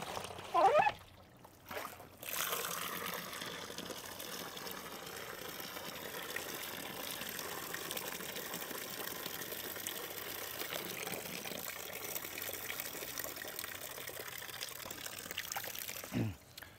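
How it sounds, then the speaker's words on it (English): Water is poured into a homemade self-watering plant pot, a steady trickling and splashing stream that runs for most of the span after a few brief louder knocks at the start, with quiet background noise. "So the water slips in here, but it doesn't just fly out."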